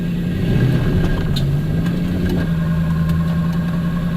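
A car fitted with a 350Z six-speed manual gearbox and twin-plate ceramic clutch idles steadily up close, a low, even engine hum with a slight shift in tone partway through.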